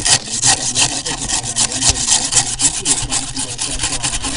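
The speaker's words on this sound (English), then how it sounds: "taking the rust off" Coarse rhythmic scrubbing of rusted metal soaked in white vinegar, loud and close, a continuous rasping back-and-forth with no talk.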